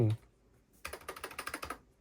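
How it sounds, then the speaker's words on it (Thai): Keys on a computer keyboard connected to a Raspberry Pi 5 running Ubuntu are struck in a quick run of about ten crisp clicks, close and distinct, after a brief pause. "อ่ะผมจะพิมพ์เคที่คีย์บอร์ดนะครับ ลองฟังเสียงเอา"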